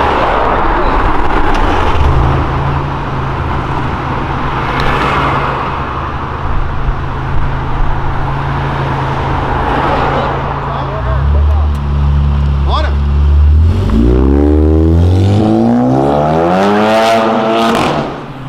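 A Volkswagen Jetta GLI stage 4 making 400 hp revs hard at a car meet, with a sustained engine drone and then rising and falling throttle blips near the end, while people talk over it.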